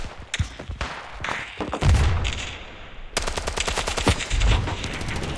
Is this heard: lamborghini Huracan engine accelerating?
no